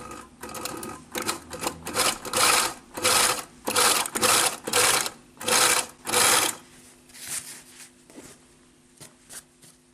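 A sewing machine stitches fabric for a top in rapid, evenly paced bursts of mechanical whirring, close and loud, with short gaps between runs, then slows to a few faint clicks and a low hum.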